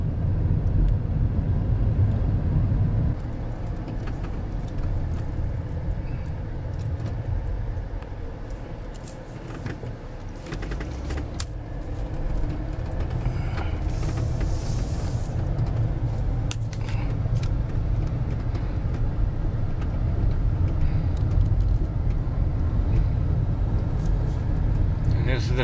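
A car drives through a small Montana town, giving a steady low road rumble and engine drone throughout, with occasional brief rattles and faint voices in the background.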